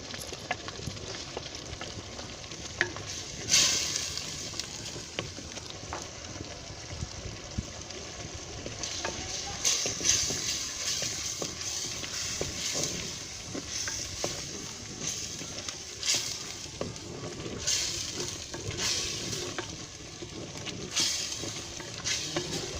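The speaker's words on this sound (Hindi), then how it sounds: "इसको अच्छी तरीके से भूनना है। मसाला हमारा अच्छी तरह फ्राई हो गया है।" Onion, garlic and ginger paste frying in a fish curry masala with tomato, a continuous sizzle with steady stirring and scraping in the pan, occasional spoon clinks, no voices.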